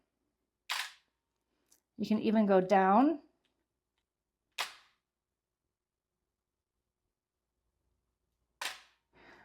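A camera shutter set to a slow speed fires as separate crisp mechanical clicks spaced several seconds apart, with a short stretch of someone speaking between them in an otherwise quiet room.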